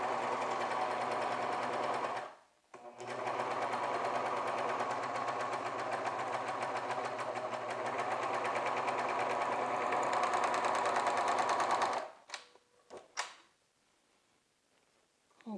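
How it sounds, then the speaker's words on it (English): Sewing machine running a long continuous seam from bottom to top on a McCall's 7812 garment, a steady loud whirring stitch pulse after a brief pause, then stopping with a few handling clicks. "And we're going to sew from the bottom all the way to the top."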